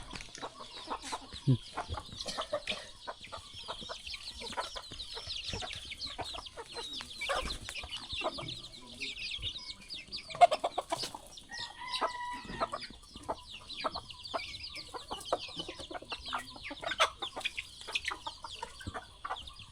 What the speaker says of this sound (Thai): ไก่กินเช่าๆทุกคน